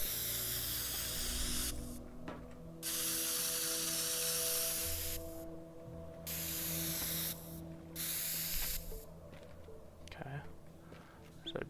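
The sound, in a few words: spray can painting in the video game Teardown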